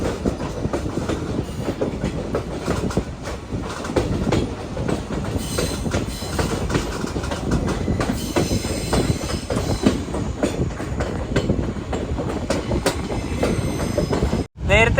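The Kanchanjunga Express running downhill on a curving track between Haflong and Guwahati, with continuous rhythmic clickety-clack of wheels, squealing on the curve and a rumbling roar that cuts out abruptly near the end.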